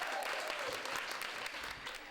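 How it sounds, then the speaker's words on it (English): Applause fills a celebration marking the end of the 2019 Go Pink breast cancer testing campaign by Fulton's Board of Health and community partners, a dense steady clapping from a crowd, fairly faint, with a few voices underneath. "And with that applause"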